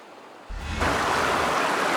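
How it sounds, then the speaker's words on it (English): Rough, rushing water of the Rogue River, rising suddenly after a half-second of quiet into a loud, steady broadband roar that carries on close by without a break. "The Rogue River is rough."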